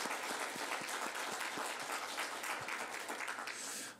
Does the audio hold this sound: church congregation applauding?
yes